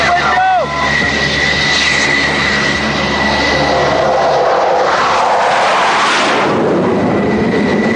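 An F-14 Tomcat jet comes in to land on an aircraft carrier deck, a loud sustained roar with a high whine and broadband jet rush that swells near the end, with a brief voice near the start.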